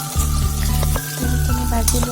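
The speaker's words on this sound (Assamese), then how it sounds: "মই ইয়াত দি দিছোঁ, অলপকৈ ভাজি ল'ম তেলখিনি" Oil sizzles in a pan while mango pickle is prepared, with a steady loud frying hiss and rhythmic tonal hum from the stove running throughout.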